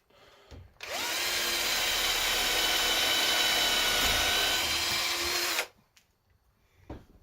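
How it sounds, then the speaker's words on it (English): A power drill runs loud and steady for about five seconds, whining close up as it bores through a ferro rod handle, then stops abruptly. "Second thoughts, I'm just going to drill it here."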